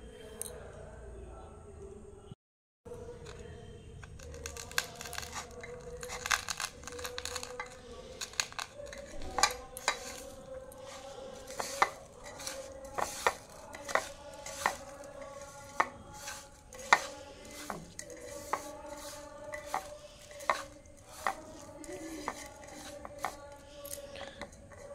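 Peanuts being mixed by hand with chili, salt and sugar in a bowl, giving a steady run of close, sharp clinks, scrapes and rustles with frequent small impacts.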